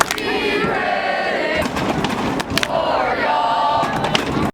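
Soccer crowd in a stadium section cheering and roaring continuously, with bursts of clapping and stomping rising and falling over a few seconds, loud and close.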